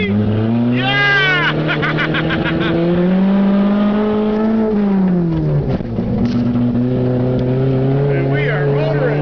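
A non-turbo Eagle Talon car accelerates hard on its first test drive, its engine loud and close, the droning pitch climbing steadily, dipping at a shift, then rising again.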